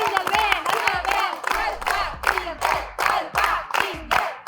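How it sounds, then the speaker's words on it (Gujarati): A game show studio audience cheers a contestant with rhythmic, chanted bursts of shouting, about nine loud, evenly spaced crowd calls with brief dips between them. "આપણે લોકો ચીયર કરશું તો ડેફિનેટલી થઈ શકશે."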